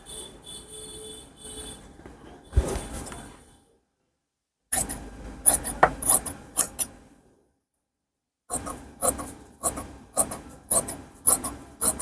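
Blouse fabric is cut along a marked shape in short bursts of crisp, close snipping and rasping, separated by stretches of silence.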